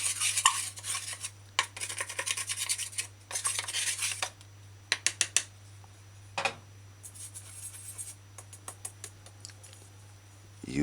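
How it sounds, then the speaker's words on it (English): A wooden spoon stirs milk ingredients for whole wheat pancake batter in a bowl, giving irregular scraping and clinking strokes that come in bursts with short pauses, close and fairly clear. "stir your milk ingredients together"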